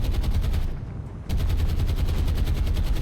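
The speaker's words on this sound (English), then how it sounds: "Just trying to weaken out some of the anti-aircraft fire as well" Rapid, loud anti-aircraft gunfire in the naval game War on the Sea, a dense steady stream of shots that dips briefly and then resumes at full intensity, with no voices.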